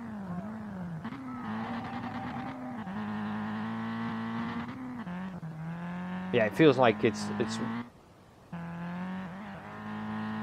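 An SR20 race car engine on E85 fuel revs in the Street Legal Racing Redline driving game, a steady droning engine note that climbs and drops between shifts, with sharp tire squeals midway and someone talking over it.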